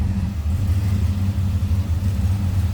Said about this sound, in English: A little rumble coming out of that LS.